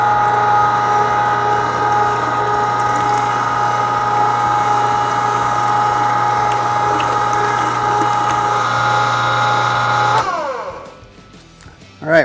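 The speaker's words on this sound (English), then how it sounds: "So let's get started with our 3/8 grind." Meat grinder pushing sausage meat through a 3/8-inch plate for smoked ham, pineapple and cherry sausage, a loud steady mechanical whir that runs continuously for about ten seconds, then slows and stops.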